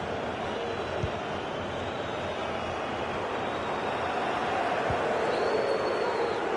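A large football stadium crowd roars steadily throughout a match, a broad distant wash of cheering that holds at an even level, with faint commentary underneath.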